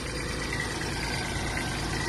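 A Kubota A-195 mini tractor with a D1105 1100 cc diesel engine runs steadily, an even, rumbling idle close by with no voices.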